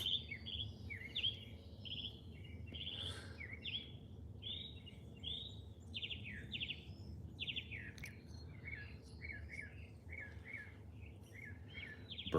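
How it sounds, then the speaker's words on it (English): Many small birds sing and chirp outdoors, with overlapping bright, repeated trills and tweets that carry on without pause over a soft, low background hum. The birds sound moderately close, and no one speaks. "So many pretty birdies singing their song."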